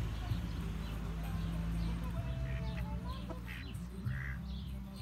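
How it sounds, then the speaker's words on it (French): Hen clucking on a farm near Chablis: a few short clucks and calls over a busy outdoor background with clip-clop and people talking nearby. "Une poule."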